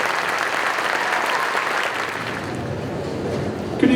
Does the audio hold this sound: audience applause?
yes